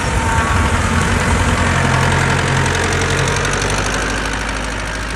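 A tractor engine idles steadily with a loud, knocking diesel chug that stays constant throughout, close by with no talking.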